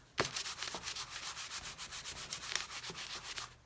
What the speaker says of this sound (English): This is just a 320 sanding sponge, and just kind of like smooth it out